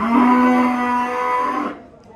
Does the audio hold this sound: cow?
yes